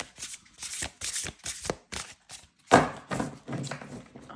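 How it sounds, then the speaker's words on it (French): Large tarot cards shuffled by hand, a close series of about eight quick riffling bursts in an uneven rhythm, one louder riffle midway, no talk. "Je vais mélanger comme ça."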